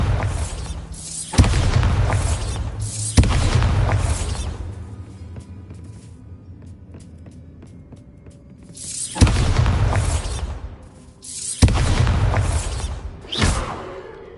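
Bombarda blasting spells detonate in Hogwarts Legacy, each a loud booming explosion with a deep rumbling tail, several blasts spaced across the stretch with quieter lulls between.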